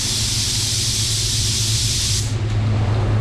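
Paint spray gun sprays EC520 coating at 30 psi in a steady, loud, close hiss that stops abruptly near the end.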